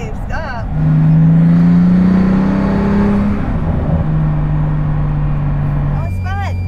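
A Pagani Huayra Roadster BC sports car accelerates hard, its engine note climbing in a loud, close roar, shifting and dropping pitch mid-run, with people talking over the engine at the start and end.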